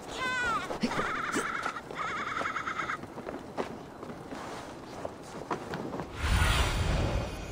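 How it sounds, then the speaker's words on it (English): In Assassin's Creed Valhalla, goats bleat in quick wavering calls near the start, over footsteps and village ambience. A deeper rumble swells toward the end. "You goats!"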